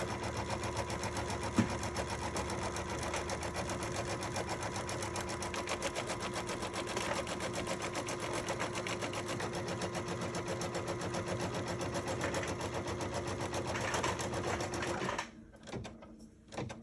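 A sewing machine stitches a quilt block for a Kimberbell Sweet Land of Liberty pillow, a fast, even mechanical whir of needle strokes running steadily for about fifteen seconds before stopping.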